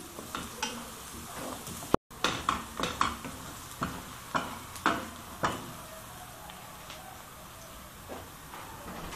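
Garlic sautéing in hot oil sizzles softly while a utensil knocks and scrapes against the pan in a quick series of taps, which thins out into a quieter, steady sizzle.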